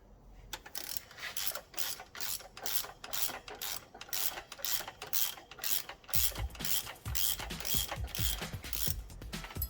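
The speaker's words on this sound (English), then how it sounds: "even just to remove one of them is an absolute nightmare." A ratchet works on a seized timing belt tensioner on a Fiat Coupe, its rapid clicking strokes repeating in close, loud bursts, heavier thumping knocks joining in the last few seconds.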